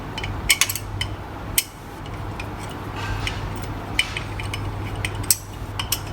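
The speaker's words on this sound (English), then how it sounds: "5mm T-bar, just screw those in" Bolts being screwed in with a 5mm T-bar on a Vortex Mini Rok kart engine during ring gear and clutch shoe work, giving soft ratcheting clicks and a few sharper ticks over a steady low hum, close by with no talk.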